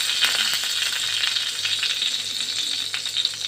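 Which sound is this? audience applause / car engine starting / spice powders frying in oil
spice powders frying in oil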